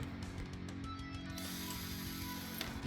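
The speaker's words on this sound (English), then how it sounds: "Remove the suspension mount brackets by removing 2 screws from each side as demonstrated." A ratcheting tool clicks rapidly and steadily up close as screws are backed out of a Tamiya Monster Beetle RC car chassis, a continuous mechanical buzz with no voices.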